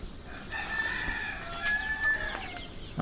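Young desi chickens and roosters in a flock give short clucks and thin crowing calls, a few faint overlapping squawks over low background noise.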